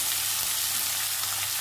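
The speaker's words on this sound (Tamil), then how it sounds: "வெங்காயத்தை நல்லா வதக்கிக்கோங்க" Chopped onions fry in hot oil in a pan, a soft, even sizzle that holds steady without breaks, fairly quiet and close, with no voices.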